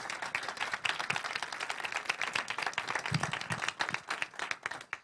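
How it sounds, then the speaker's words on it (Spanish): An audience at a World Animation Day event in Madrid gives a round of applause, with many hands clapping in a crisp, busy rhythm that continues steadily throughout. "un gran aplauso,"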